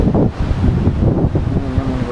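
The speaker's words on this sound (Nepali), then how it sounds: "हावा चाहिँ तक्कडा आइरहेको छ" Strong wind near a suspension bridge over a river gorge on a mountain road, heard as steady, loud low-pitched rumbling and buffeting against the microphone with no talking.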